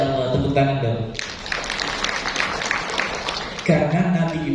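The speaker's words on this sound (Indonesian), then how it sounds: "Masya Allah, tepuk tangan dong" Audience applause at a parenting seminar, a dense wash of clapping lasting a few seconds between stretches of a speaker's amplified voice.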